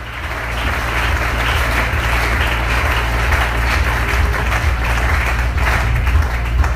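A church congregation applauds the Lord during a Sunday service, a dense, steady wash of many hands clapping together throughout, loud and close with a low hum beneath.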